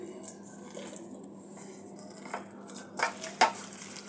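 A spoon or utensil working chicken meatball mixture in a bowl, soft squishing with a few light clinks against the bowl toward the end, quiet and close.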